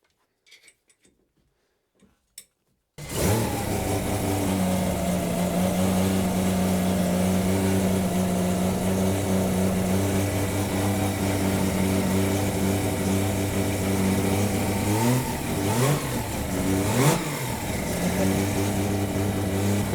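A Mazda 20B rotary engine in a 1000 hp Corvette with a G45-1500 turbo runs hard on a dyno through a silencer. It cuts in loudly after a quiet start, holding a steady, buzzing drone with brief pitch swings near the end.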